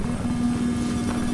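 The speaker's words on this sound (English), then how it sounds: "Chopper, chopper." Helicopter in the video game Battlefield 4, a steady close rotor drone with a low hum that holds throughout, no voices.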